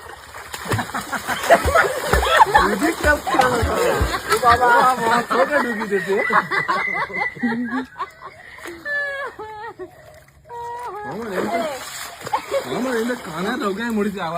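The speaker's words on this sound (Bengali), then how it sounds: "এবার আমি এখানটায় এরকম করে সাঁতার কাটার চেষ্টা করবো" Splashing water from someone swimming, with choppy, irregular sloshes and splatters continuing under nearby talk and shouting voices throughout.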